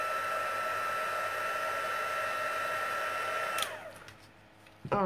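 A hot-air heat tool for gilding flakes runs steadily with a high whine for several seconds, then switches off and winds down, followed by a brief clatter.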